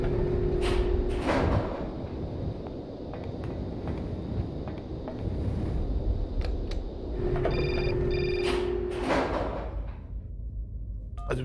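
A telephone rings in the Syberia adventure game, two bursts of ringing separated by a long gap with background ambience, loud and close, with no talking.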